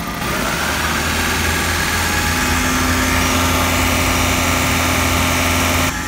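A Pontiac Vibe car engine runs held at a steady 1500 rpm, a loud continuous drone with a constant low hum that cuts off abruptly near the end.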